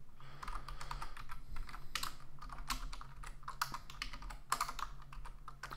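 Rapid, steady typing of code on a computer keyboard, with dense clicking keystrokes throughout, fairly close and alone without talk.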